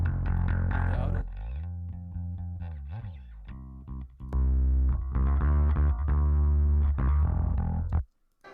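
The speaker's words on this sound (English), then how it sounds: "A lot of distortion." Heavily distorted instrument audio, likely a bass track, run through a distortion effect in a Pro Tools mixing session, buzzing and saturated, with sustained notes, brief gaps and an abrupt cutoff near the end, with no talking.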